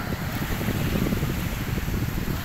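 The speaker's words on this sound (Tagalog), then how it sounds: "napakinggan natin yung alon" Ocean waves washing on the shore at sunset, a steady loud rushing roar with wind buffeting the microphone throughout, close and without talk.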